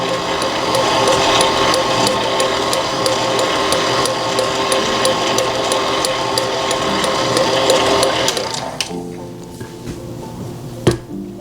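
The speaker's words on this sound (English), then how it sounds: "Gonna unplug the mixer." An electric mixer whirs steadily through mayonnaise cake batter made with Hellmann's mayonnaise, a constant close mechanical hum. It cuts off near the end, leaving a quieter room and a single knock.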